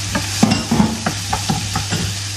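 Onions fry in a pan and are stirred, with soft sizzling and a handful of distinct spoon scrapes at irregular intervals, close and fairly loud.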